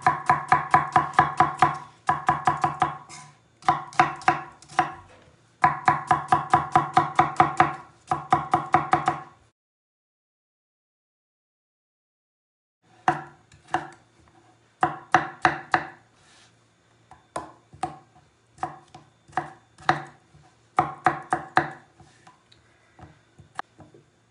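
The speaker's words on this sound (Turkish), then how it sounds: "Hemen soğanını doğrayalım." An onion is chopped with a knife on a board in a home kitchen: quick, crisp bursts of rhythmic chopping strokes, close and clear, broken by a pause before another run of strokes.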